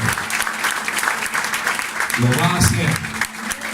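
Church congregation applause rises as a steady wash of clapping beneath a preacher's voice, who speaks briefly over it.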